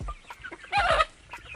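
Chickens on a Jamaican farm give a short burst of clucking and squawking at mid-distance, with fainter bird calls scattered before and after.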